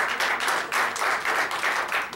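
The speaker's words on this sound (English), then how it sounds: "I appreciate that clapping." A Las Vegas stage-show audience claps in rhythmic pulses, roughly two bursts per second, a loud, close, unified beat with no talking.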